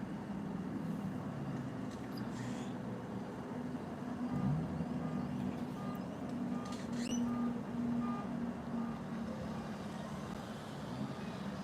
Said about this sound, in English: Hear that alarm?